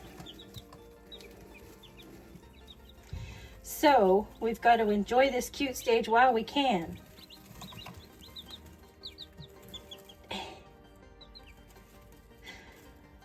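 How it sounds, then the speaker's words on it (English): A burst of rapid high peeping from baby chicks rises for a few seconds, then a person talks briefly as faint cheeps continue. "so that you guys can get up close and personal with the chicks"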